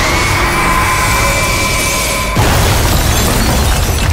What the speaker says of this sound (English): The explosion was not like worldly fire. It shrieked as if with many shrill voices,